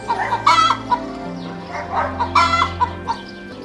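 Hens clucking in a Hindi cartoon about a family raising chickens near their home; several close, loud clucks come in short bursts over a soft background, with no speech.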